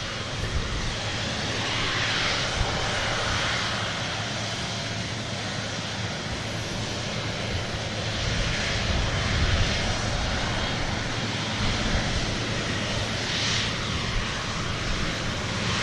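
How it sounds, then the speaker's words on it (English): A Qatar Airways Boeing 777 takes off from an airport, producing a sustained wide rumble and roar with gentle swells in loudness, heard at some distance without speech. "Qatar triple heading back on the return leg to the Middle East"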